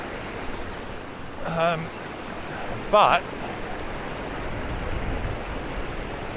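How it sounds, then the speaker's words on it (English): River water running heavily near Buckley's Falls by the old Fyansford paper mill, a steady broad rushing roar throughout, with a couple of brief voices speaking over it. "the water's running quite heavily"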